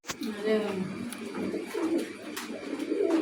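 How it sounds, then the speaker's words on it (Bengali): Pigeons, a pair of Afsan Girizel birds kept at a farm, coo softly in low murmuring phrases that run through the whole stretch, with some other voices and background activity mixed in. "এই যে এক জোড়া কবুতর"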